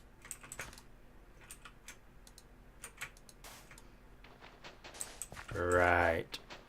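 Computer keyboard keys and a mouse click during a PC game, with light, irregular clicking and tapping spread through the clip, then a short loud burst of speech near the end.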